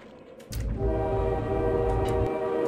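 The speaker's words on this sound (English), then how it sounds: "Or, I mean, you can see the train coming." A train rushes along the track toward the player with a long, loud horn blast in the shooter game Blood, the rumble building and staying heavy to the end.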